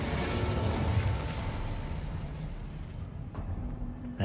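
An Incendio fire spell is cast in Hogwarts Legacy, a loud, roaring burst of flame that fills the scene at first, then thins and fades, with a sharp pop near the end.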